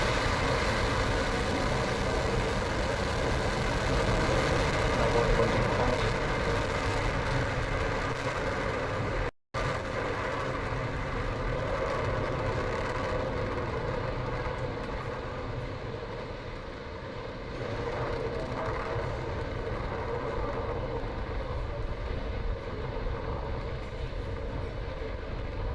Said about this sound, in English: Ignition, liftoff.